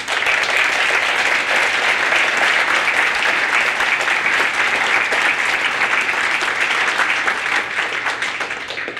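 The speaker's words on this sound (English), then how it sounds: "Please give yourselves a round of applause." A large audience at a 50th anniversary celebration applauds, dense sustained clapping that stays loud and even before tapering slightly near the end, with some voices mixed in.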